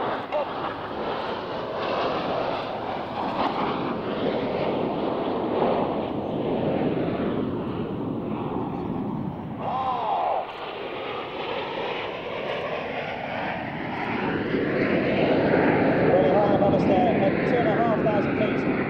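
An Avro Vulcan XH558 bomber takes off at Waddington, its engines a loud, sustained roar that dips briefly and then swells louder and sweeps in pitch toward the end, with a commentator talking faintly beneath it.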